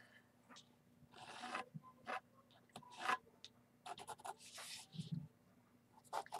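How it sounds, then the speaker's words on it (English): Pencil sketching an outline on paper or fabric for a mixed-media painted doll, faint scratchy strokes in short irregular bursts with light taps and rustles, close and quiet. "Grabbing my pencil."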